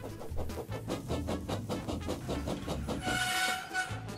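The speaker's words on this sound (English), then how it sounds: "Horace is a small red engine who works on a narrow gauge railway." A small red narrow gauge railway engine runs steadily along, its wheels beating out a fast, regular clickety-clack rhythm that stays loud and close, with a brief high whistle-like tone near the end.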